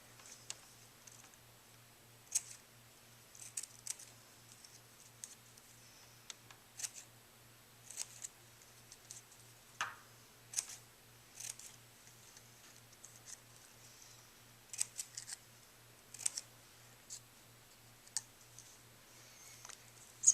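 Scissors snipping paper to make fringe for a Matisse-style cut-out plant shape, a run of quiet, close, irregular clicks and snips spread through the stretch with a faint low hum underneath and no talking.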